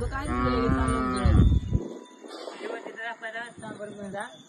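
Farm cows give a long, loud moo near the microphone, followed by softer lowing, while people talk in the background on a rural Maharashtra farm during the Bail Pola festival.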